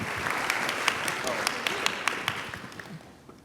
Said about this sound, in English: Another round of applause for all the speakers